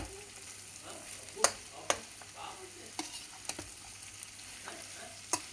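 Beetroot stir-fry with freshly ground grated coconut being stirred in a pan: a soft background sizzle broken by several sharp spatula scrapes and taps, close and fairly quiet, with no talking.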